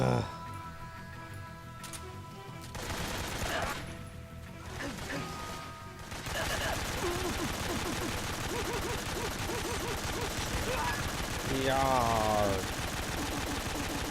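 Gunfire in Metal Gear Solid 3, with loud bursts of automatic fire and crashing impacts, then a man's short exclamation and brief talk over continued shooting.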